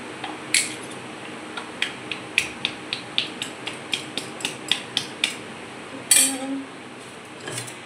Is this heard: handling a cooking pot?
yes